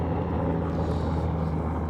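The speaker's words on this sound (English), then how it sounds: "the helicopter's flying by right now" A helicopter passes at a distance, a steady broadband rumble with a low drone that holds evenly without any voices.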